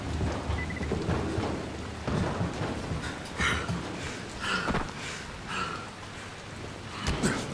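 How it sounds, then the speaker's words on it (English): Steady rain patters and hisses throughout in the video game Dying Light, with low rumbles of thunder rolling in the background at moderate volume. "It's raining."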